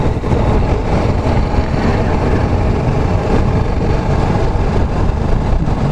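A motorbike engine drones steadily while riding, mixed with continuous wind and road rush, loud, close and unbroken, with no voices.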